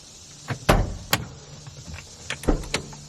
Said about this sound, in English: Let me open the trunk.